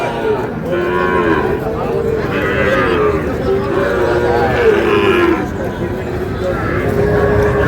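A Sahiwal bull calf of about five months, at a Narsingdi cattle market, gives several loud close moos in repeated rising calls while people talk around it.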